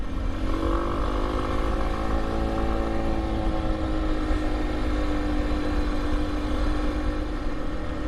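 Motorcycle engine droning steadily while riding on a chilly day, loud and continuous with shifting engine tones and wind rumble, no talk.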